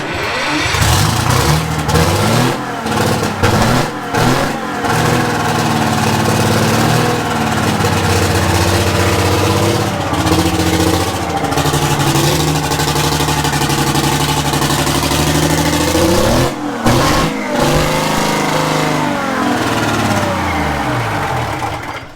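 A rough, uneven Detroit Diesel 6-71 engine runs loudly and continuously close by on only a couple of cylinders, its note wavering and stumbling with a brief dip near the end.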